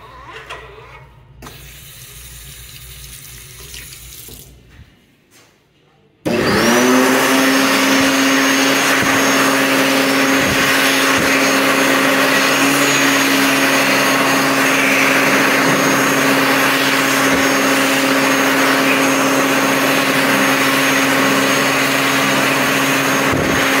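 Electric hand dryers in a public restroom, starting abruptly after a quiet stretch of faint room noise and then running as a loud, steady whooshing airflow with a constant motor whine for the rest of the clip.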